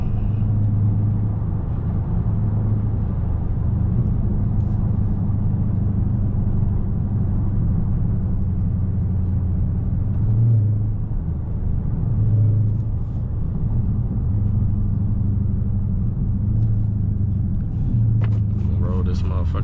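A Dodge Charger Scat Pack cruises a highway at night, heard from inside as a steady low rumble of engine and road noise with slight surges, and a few faint sounds near the end.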